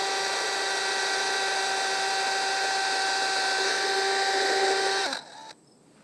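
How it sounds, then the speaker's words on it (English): A power drill bores a hole into a wooden beehive to fit a temperature probe, a steady high whine with strong tonal overtones running close and loud for about five seconds before cutting off abruptly. "drill a hole right here to put a temperature probe so we can monitor the temperature"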